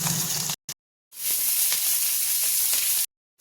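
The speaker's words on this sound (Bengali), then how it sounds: "এদিকে আবার একটা কড়াই বসিয়ে দিয়েছি, এখানে তেল গরম হচ্ছে, তো এখানে চিকেনটা ভাজা হবে" Hot oil in a kadai wok, heated for frying chicken, gives a loud, close sizzling hiss in two bursts, cut by sudden silent gaps.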